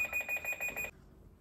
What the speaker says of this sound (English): that was like the longest buzzer bell ever